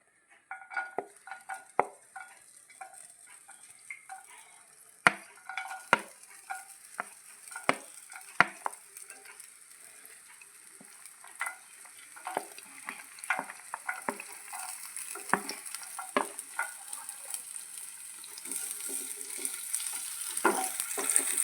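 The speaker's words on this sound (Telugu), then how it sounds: "మంచిగా ఫ్రై చేసుకుందాం." Green chillies and garlic fry in a hot pan and are stirred. Sizzling builds steadily louder while a utensil scrapes and clinks against the pan in irregular strokes.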